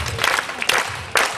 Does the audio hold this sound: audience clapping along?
yes